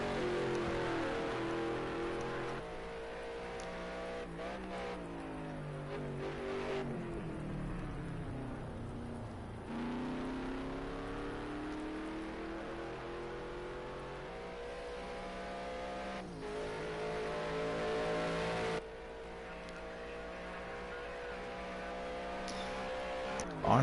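Race cars run on a wet track at Road America, engines revving and shifting as they pass, with spray hiss beneath, steady and fairly loud over about twenty-four seconds while a commentator talks over them.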